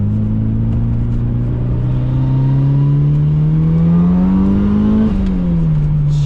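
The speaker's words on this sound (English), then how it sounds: "It's making all those absolutely fantastic, well-needed turbo noises as well." A turbocharged car engine, a Mitsubishi Evo 7 or turbo MX5, accelerates hard and close, its pitch climbing steadily before dropping sharply at a gear change and continuing on, with wastegate chatter.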